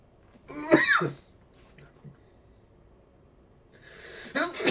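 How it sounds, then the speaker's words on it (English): A single cough up close, followed after a quiet stretch by a sharp sneeze with a breath drawn in beforehand. "I had to follow the cough with a sneeze."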